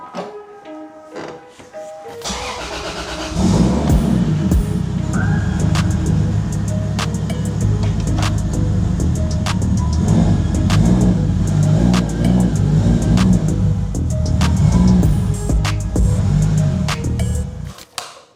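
A car engine revs as the car pulls away, rising from quiet into a loud, sustained mid-pitched roar with repeated surges and a few sharp clicks, then cuts off abruptly near the end.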